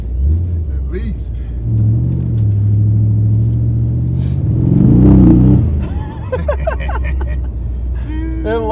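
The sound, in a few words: supercharged Corvette engine revving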